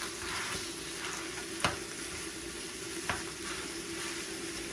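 Ground beef fries in a pan with a steady, quiet sizzle while a utensil breaks it up and presses it down, two sharp scraping knocks standing out against the crackle.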